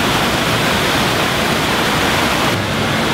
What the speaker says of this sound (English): Other than a big water fountain.